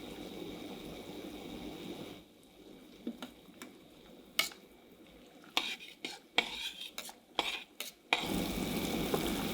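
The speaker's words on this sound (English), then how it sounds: "Great, I stir the brine and cook for 5 minutes under a lid." Pickling brine of water, salt, coriander seed and juniper berries is stirred in a pot, with faint clinks and taps of a spoon against metal over a low hiss, then a quiet background hum.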